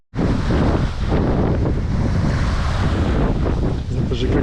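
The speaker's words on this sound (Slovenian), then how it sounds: "Ampak kdaj bo tale veter vztrajal" Strong wind buffets the microphone aboard a sailboat on the Indian Ocean, a loud continuous rush with waves and surf washing beneath it, steady from start to end.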